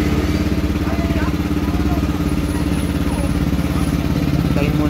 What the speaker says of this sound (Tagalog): subukan muna natin kung ano yung magiging response ng makina after natin i-reset